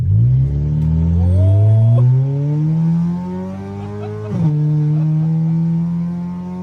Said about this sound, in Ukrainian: Зараз я вам покажу, як Hyundai речить обережно, дуже голосно.